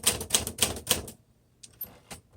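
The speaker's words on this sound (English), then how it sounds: "It's really a classic typewriter, the classic body." Typing on a 1950 Smith Corona Silent Speedline brown typewriter: four crisp, evenly spaced keystrokes close up, then a pause and a few lighter clicks.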